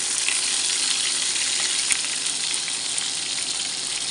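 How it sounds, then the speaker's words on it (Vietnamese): Meat frying in hot rendered fat in a pan, a loud, steady, close-up sizzle with crackling throughout and no talking. "vừa thắng mỡ vừa chiên thịt"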